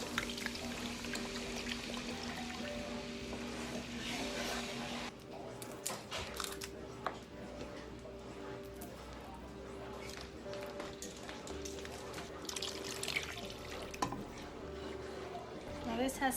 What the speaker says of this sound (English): I'm going to add some half and half and some chicken stock, which is just the bouillon cubes and water.